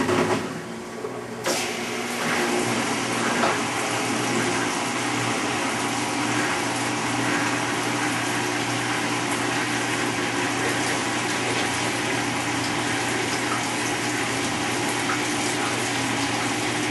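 Maytag Centennial washing machine, overloaded, filling with water for its rinse cycle: a steady, continuous rush of inflowing water with a mechanical hum underneath, loud and unbroken throughout.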